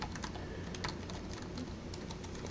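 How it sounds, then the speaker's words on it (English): Rapid typing on the island-style keys of a Lenovo ThinkPad T430s laptop, a dense stream of close, light clicks and taps continuing steadily without speech. "This is my first time touching the keyboard."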